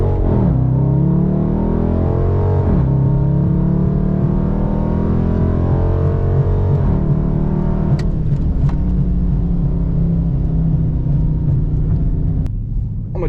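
2019 Dodge Charger RT with a cold air intake accelerating hard, its loud engine note climbing steadily through the revs, easing off, then rising again, heard from inside the car with no talk.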